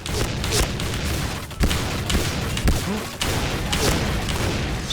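Repeated gunshots in the shooter game Point Blank ring out as sharp, close bursts over a constant noisy battle background, several distinct cracks spaced across the few seconds.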